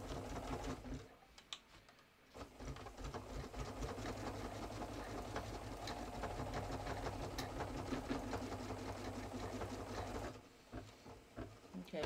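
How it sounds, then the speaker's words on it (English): An embroidery machine stitches basting lines through knit fabric held in a hoop, a fast, steady mechanical chatter at close range with brief pauses near the start and end. "I'm just going to baste in the hoop."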